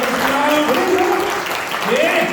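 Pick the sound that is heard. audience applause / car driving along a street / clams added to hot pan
audience applause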